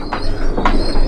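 Pigeons coo close by, a single soft throaty call with a second swelling coo; the birds are imported red-eyed pigeons from a loft.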